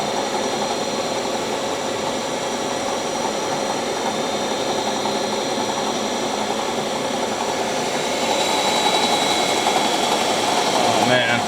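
Swiss Tschudin super-precision universal cylindrical grinder at spark-out before retracting and parking, giving a steady loud mechanical hum and whine with a slight rise in level near the end.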